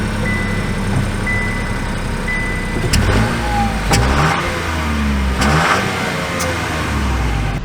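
A 2024 Chevy Trax Activ driving along, its engine a steady mid-pitched drone with road hum, rising briefly in a few revs, heard from inside the cabin with no talking.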